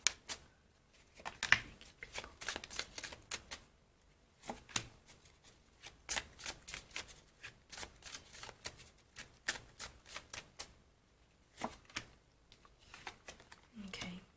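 Tarot cards being shuffled by hand, heard as soft, quick bursts of riffling and slapping that come in irregular clusters, fairly faint and close, with gentle speech in the background between them.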